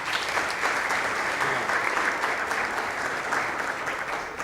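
Sustained applause fills a formal ceremonial council session in Recife honouring councillor Ayrton Luna, steady and dense throughout, with no voices rising above it.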